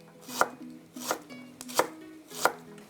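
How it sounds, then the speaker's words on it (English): A kitchen knife cuts fresh ginger into thin slices on a cutting board, four crisp, evenly spaced chops about two-thirds of a second apart, close and clear with no voices. "we're going to cut the ginger in thin slices, and then we'll cut it in thin matchsticks"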